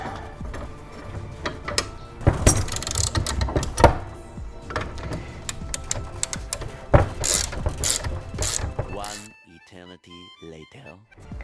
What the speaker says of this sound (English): Just undoing this nut over here is going to be